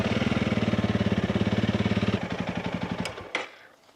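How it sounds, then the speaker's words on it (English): A Honda CRF300 Rally motorcycle engine idles nearby with a steady, rapid thumping pulse that loosens after about two seconds, then a couple of sharp clicks and a quick fade into silence. "we are going to turn on the motorcycle and just let it idle for about 4 to 5 minutes to heat up the oil."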